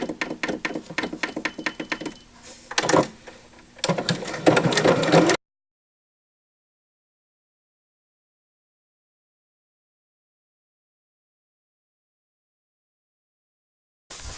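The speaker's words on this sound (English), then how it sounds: "to sew on zippers, I just adjust the needle position" A sewing machine stitches a zipper onto cotton fabric with a fast, rattling mechanical chatter for about five seconds, broken by short pauses. It is followed by long silence and a faint blip at the very end.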